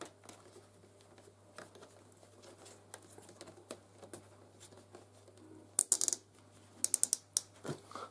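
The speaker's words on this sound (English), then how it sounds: "And then you just simply secure with your cable tie." A plastic cable tie is pulled tight around a tumble dryer condenser box, giving a rapid run of close, sharp ratcheting clicks in short bursts near the end after quiet handling noises.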